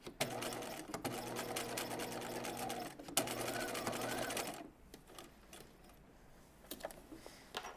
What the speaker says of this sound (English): I am going to edge stitch the top of it so it's reinforced twice on this side